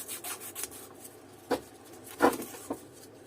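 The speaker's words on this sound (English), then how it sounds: "I will do 4 grit sandpaper" An alternator part from a Bosch 100A unit is hand-sanded with sandpaper, producing a few short, dry rubbing strokes at close range, with two stronger scrapes standing out among fainter ones.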